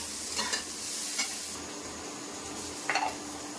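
Hog plums (amda) fry in a pan under a steady soft sizzle, with a few scraping stirs and clinks of a utensil against the pan, heard close and without speech.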